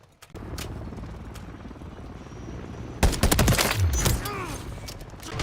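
Gunfire bursts in a Modern Warfare 3 match, with a loud cluster of rapid shots midway through layered over a steady drone of battlefield ambience, no speech present.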